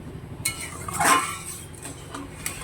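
A spoon stirs tamarind chutney with sugar in a pot, a few light clinks and scrapes of metal against the pot, close and fairly quiet.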